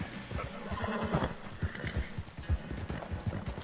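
Horse hooves clip-clop steadily in a PS4 open-world game, with a faint whinny mixed into dense in-game ambience; the galloping thumps repeat in a quick, even rhythm throughout.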